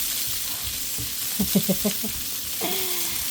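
Onion for mung beans with spinach frying in a pan, a steady close sizzle with a few brief clinks and scrapes of stirring partway through.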